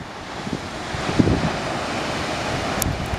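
Pacific Ocean waves washing onto a beach on a chilly, windy day, a steady broadband roar of surf with wind buffeting the microphone, continuous and fairly loud without any talking.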